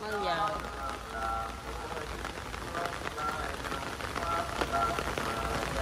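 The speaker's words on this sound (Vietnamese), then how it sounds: "Mưa lớn rồi. Bữa nay mưa sớm á." Heavy rain pours down steadily at a graveside gathering, a dense broadband wash throughout, with a voice speaking over it.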